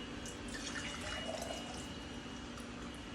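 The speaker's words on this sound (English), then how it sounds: "Okay, so this is a pint. Pour it in here." Celery juice pours in a steady, continuous trickling stream into a pint container, a soft liquid splash running evenly from start to finish with no talk.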